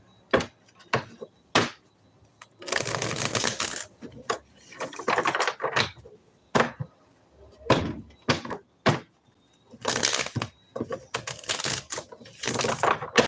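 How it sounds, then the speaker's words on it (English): Bursts of crisp tarot card shuffling, riffles and soft slaps in quick clusters with short pauses between, close and moderately loud. "Shuffle up real good."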